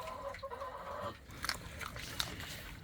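Chickens cluck softly on a family farm while pecking at tomato and bell pepper treats, short scattered clucks close by over a faint background.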